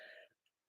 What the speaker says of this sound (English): Sometimes you get to watch me cough.